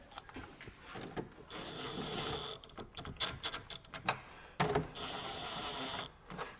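A 10 millimeter socket ratchet works bolts on a 2015 Chevy Camaro 2SS RS Convertible, giving bursts of rapid clicking and scraping with short pauses between, close by and moderately loud, with no talking.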